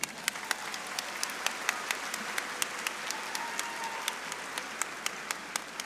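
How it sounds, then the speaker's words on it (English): Applause for ninth grade school counselors and campus staff at a high school graduation ceremony, a steady wash of clapping from a large crowd with a few sharp individual claps standing out. "Please give them all a round of applause."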